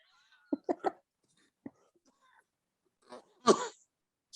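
A single cough, preceded by a few short throat noises, stands out sharply and close in an otherwise quiet room.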